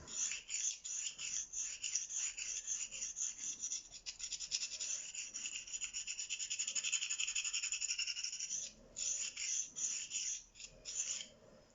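Ka-Bar Dozier knife blade drawn by hand across Venev sharpening stones, a rhythmic bright scraping rasp repeating in strokes, close and fairly quiet, with a brief pause near the end.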